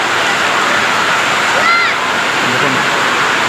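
Water pours in a loud, continuous rushing wash onto a railway platform at Balasore station, with someone speaking over it.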